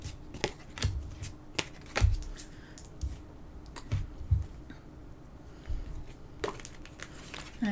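Oracle cards being shuffled by hand in quick, soft riffling bursts, close and fairly quiet, with short pauses between shuffles.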